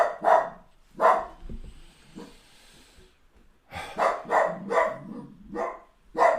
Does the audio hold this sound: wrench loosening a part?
no